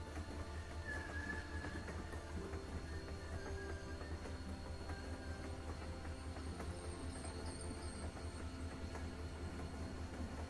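A train from The Walking Dead video game rolls along with a steady low rumble and faint clickety-clack, a continuous even drone with a brief high squeal near the end.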